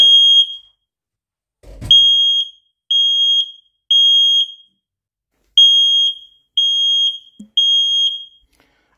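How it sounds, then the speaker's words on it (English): X-Sense XS01-WT Wi-Fi smoke alarm sounding during a smoke test, a loud, piercing high-pitched beep repeating in groups of three with short pauses, close up, with a brief thump partway through. "And there is the smoke alarm."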